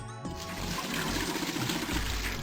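In a video game, a bucket of hot water is dumped into a toilet tank, giving a brief clunk and then a steady, full rush of pouring and filling water.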